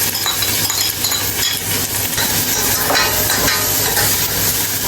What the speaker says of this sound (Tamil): அதுக்கு பிறகு வெங்காயம் போடுறேன்